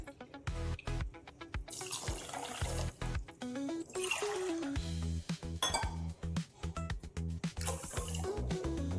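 Water runs and splashes steadily into a metal pan for gulab jamun sugar syrup, with occasional clinks of cookware, close by and continuous throughout.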